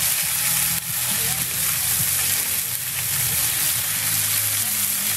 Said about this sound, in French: Donc là on va les saisir à l'huile